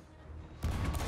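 A gunshot in a pirate video game, a sudden loud blast that cuts in after a quiet moment and rings on briefly.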